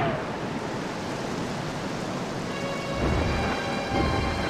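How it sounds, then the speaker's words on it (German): Dense rain and a thunderstorm rumble in Zelda: Twilight Princess during the dragon Argorok fight, a steady roaring wash with deeper thunder swells near the end. "Es fängt an zu regnen. Er nimmt sich die Winde und den Sturm als Hilfe."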